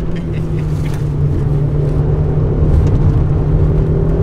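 Peugeot 106 S16 Rallye engine droning loudly and steadily under hard acceleration from inside the cabin as a front wheel spins, a continuous strained roar with no voices.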